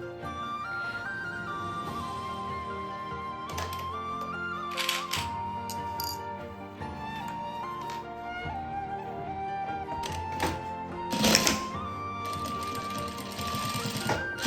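Sewing machine stitching along the edge of a make-up pouch made from an old kimono, a steady continuous motor whir with brief pauses and a few louder bursts, close and alone without talk.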